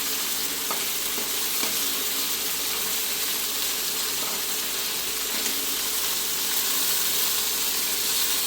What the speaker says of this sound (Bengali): এই মাছগুলি একটু কড়া করে ভাজতে হয়